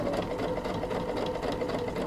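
A sewing machine runs steadily while stitching all the way around a bucket hat, a continuous close whirring hum with rapid needle chatter and no pauses.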